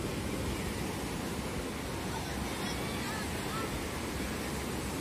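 Sea waves breaking along the shore form a steady, dense wash of surf that holds at an even level throughout, with light wind noise and no voices.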